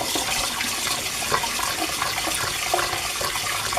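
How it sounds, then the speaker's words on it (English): Cold tap water running into a bowl while raw chicken is washed: a steady broadband splashing rush with small spatters, constant and near, no talk. "then you just put your water in it and wash it"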